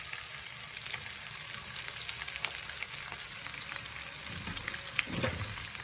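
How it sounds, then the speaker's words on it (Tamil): Chillies, curry leaves and onion hit hot oil in a pan, setting off a dense, even sizzle and crackle that holds steady throughout, close up and without speech. "இப்போ இந்த மிளகாய், கருவேப்பிலை, வெங்காயம் எல்லாத்தையும் போடுவோமா"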